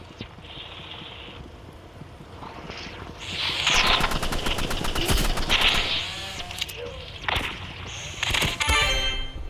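Rapid gunfire bursts from a Roblox Rivals game, clicking automatic fire in short volleys over game sounds, growing louder midway.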